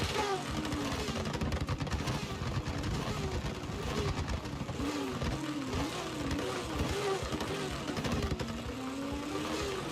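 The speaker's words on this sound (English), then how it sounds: "We are ready. Everyone's revving." Drift cars at the start line of an ESDA World Championship preliminary at Tsukuba rev their engines together, a dense, loud mix of wavering engine notes rising and falling continuously, with crowd noise underneath.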